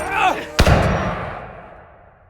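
A single loud gunshot effect in a dramatized Guy Fawkes story about Robert Catesby's death, a sharp crack followed by a long rumbling echo that fades out, preceded by a brief voice.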